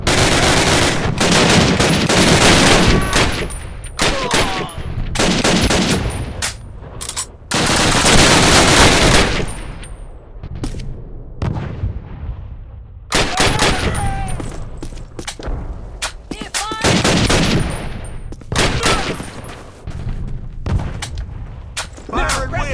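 Heavy Call of Duty battle gunfire from soldiers, with dense bursts of rifle and machine-gun fire and occasional booms, coming in waves separated by short lulls, loud and close throughout with shouted voices mixed in.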